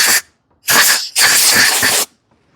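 Compressed air blasts out a John Deere LA105 riding mower carburetor in three loud, close hissing bursts, the last one longest, with silence between.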